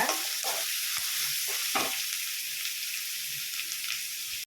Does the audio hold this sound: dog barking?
no